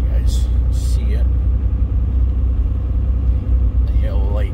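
A truck engine rumbles low and steady with its exhaust brake engaged, a constant heavy drone that continues for the whole stretch, with a few brief higher tones above it.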